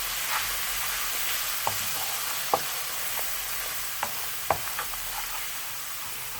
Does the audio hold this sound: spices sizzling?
yes